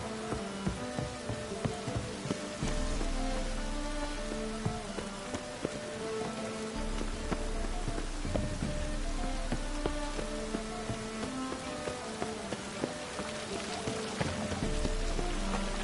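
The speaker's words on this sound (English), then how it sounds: "Looks like rain." Steady rain falls and patters on surfaces for the whole stretch, a dense, even hiss with scattered closer drops and occasional low rumbles beneath, with no voices.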